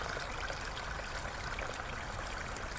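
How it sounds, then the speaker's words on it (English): Water rushes steadily in a broad, even wash like a river heard nearby. It is continuous and fairly quiet, with no voices. "you can hear the sounds of a raging river"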